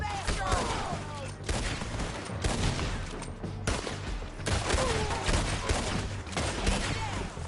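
Rapid volleys of gunfire in Red Dead Redemption 2, loud and close with dense overlapping shots and booms, under shouting voices.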